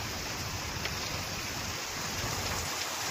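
Heavy rain pours down steadily during a storm, a dense, unbroken hiss of drops on surfaces, constant and fairly loud with no pauses.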